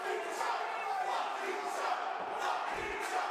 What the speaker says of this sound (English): wow, the crowd really getting on Charles Mason